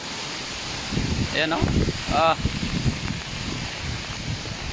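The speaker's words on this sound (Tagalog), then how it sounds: "Grabe, lakas ng hangin dito guys, oh." Strong wind on a mountain top roars and buffets the microphone in gusts, with a voice briefly speaking over the rushing noise.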